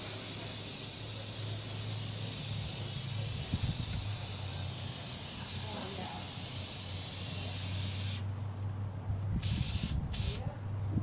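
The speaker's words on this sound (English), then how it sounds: "Spraying a little color now, a little Ford red." Spray paint hisses steadily in long bursts as Ford red is applied to a 1951 Ford flathead engine block, close and continuous with brief pauses near the end.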